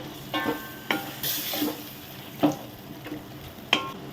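Chicken liver with green chillies frying in a pan, a steady soft sizzle broken by scattered stirring scrapes and clinks, fairly quiet and close with no talking.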